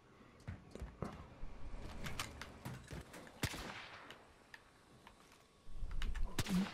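Faint, scattered gunshots in a video game, sharp isolated cracks at irregular intervals, with a denser rumble toward the end.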